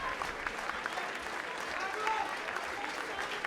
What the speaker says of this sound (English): And you can hear the home support clapping their team in.